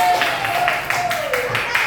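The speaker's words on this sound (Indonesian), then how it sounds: "Oke, kita tepuk tangan dulu." A classroom of students clapping hands together: a brief burst of rhythmic, fairly close claps, with a voice speaking over them.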